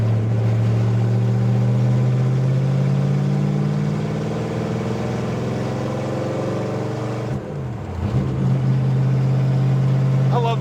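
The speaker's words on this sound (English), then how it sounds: "I love the way this car sounds." A Dodge Dart V8 engine idles with a deep, steady low rumble. Near the end it briefly dips, then revs back up.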